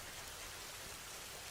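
Heavy rain pours down as a steady, dense hiss, even and unbroken for its brief length, very faint overall with no voices.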